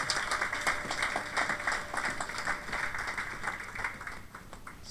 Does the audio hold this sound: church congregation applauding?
yes